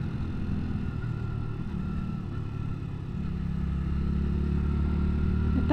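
A Hyosung Aquila GV 125 motorcycle being ridden, its steady mid-pitched engine drone holding a constant, moderately loud hum as the bike cruises, with a slight pitch rise partway through and no speech.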